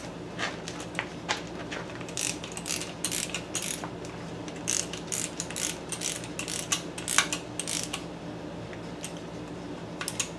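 A ratchet tightens a bolt into an aluminum engine block during a 2007 Chevy 5.3 engine rebuild, producing close, sharp ratcheting clicks in uneven bursts over a low background hum.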